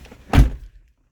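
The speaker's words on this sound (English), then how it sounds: "you flip the key open the door, and you hear a robotic sound" An Abarth 595C car door opens with a single solid thunk, close and short, then quickly fading to quiet.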